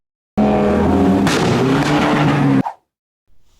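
A Ford Focus ST Mk3 with a loud aftermarket exhaust revs hard for about two seconds, rising sharply, then cuts off with a crackle and falls silent.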